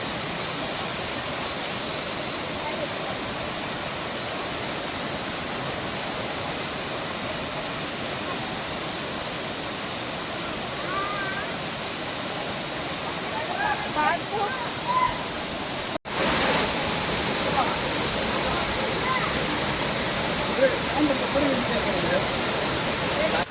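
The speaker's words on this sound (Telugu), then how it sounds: "వాటర్ ఫాల్స్ దగ్గరికి అయితే వచ్చేసాము." Steady broadband rush of Talakona waterfall fills the whole stretch at a constant level, with faint human voices and small sounds surfacing briefly over the roar.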